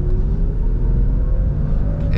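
Early 1999 Porsche 996 Carrera C2 driven hard on a winding road, its engine a loud, steady, continuous rumble close up throughout, with a faint rise in tone near the end.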